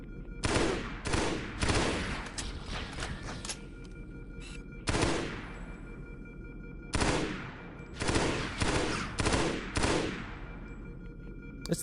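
Halo: Combat Evolved (SPV3) gunfire: bursts of automatic rifle fire in repeated clusters, loud and close, with short pauses between volleys and a steady background hum.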